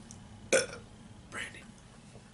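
A man lets out a short, abrupt burp, followed about a second later by a second softer belch, against a quiet room background.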